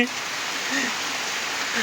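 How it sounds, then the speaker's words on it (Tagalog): Steady rain falls on a garden, a dense even hiss that stays close for the whole stretch, with a faint voice now and then beneath it. "hindi kasi ako makapag video guys dahil umuulan ngayon nababasa kami"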